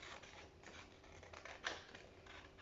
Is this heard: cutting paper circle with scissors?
yes